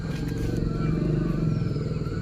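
A motorbike pulls up in a village lane, its engine a steady low drone close by throughout, with voices talking over it.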